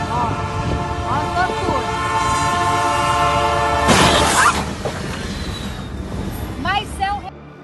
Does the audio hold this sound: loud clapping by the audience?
no